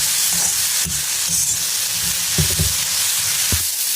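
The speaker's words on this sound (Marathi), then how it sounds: "मिरची एक कलर बदलणार अजून एक दोन मिनिट आपण भाजून घेऊया" Raw mango and green chillies roast in a pan over medium gas with a steady close sizzle, broken by a few sharper pops and stirring knocks.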